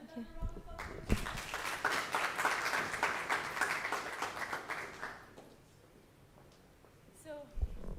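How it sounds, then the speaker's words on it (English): Audience applause in a conference room at a machine-learning event at Wits University, Johannesburg: dense, steady clapping for about four seconds that quickly dies away into quiet room tone, with brief sounds at either end. "Another round of applause."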